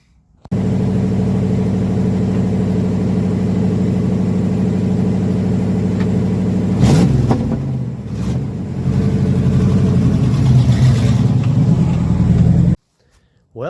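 A Chevy truck engine runs steadily with a low, rumbling idle, then revs up briefly and settles back into a rough idle. It sounds close and loud, and the sound cuts off sharply at the end.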